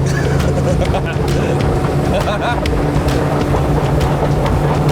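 A motorboat accelerates across open water, its engine roaring loud and continuous with rushing water and wind throughout.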